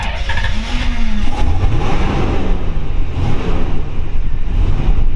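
A 1950 Mercury convertible resto-mod engine runs loudly and close by, a rough rumbling idle with brief revs rising and falling.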